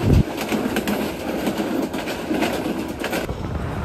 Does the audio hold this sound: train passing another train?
yes